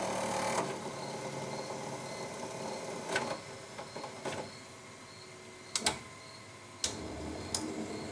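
A 2001 French-made Kappa lens edger running through its self-test routines, a steady mechanical hum and whir with occasional sharp clicks and ticks as components move, heard alone with no talking.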